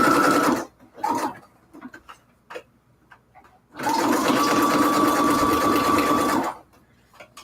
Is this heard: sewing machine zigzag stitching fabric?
yes